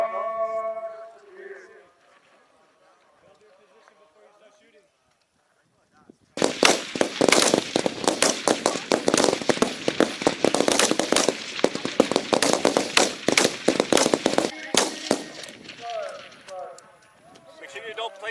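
Rifle fire at a Marine rifle range during annual training, a long dense volley of sharp overlapping shots after a quiet opening with voices, loud and sustained, then easing off near the end.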